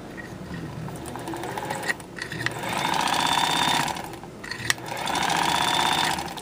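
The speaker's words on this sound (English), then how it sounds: "Just like a sewing machine." A vintage 1958 Kenmore 117.841 sewing machine runs in two steady, buzzing stretches separated by brief pauses and clicks, close and fairly loud with no talk.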